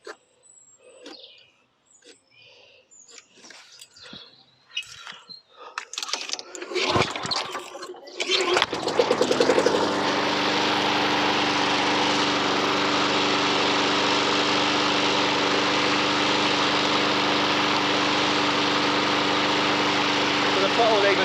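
Honda HR173 lawn mower engine with an unresponsive throttle lever. Faint talk and handling noises come first, then the engine catches and runs loud and steady for the remaining twelve seconds or so.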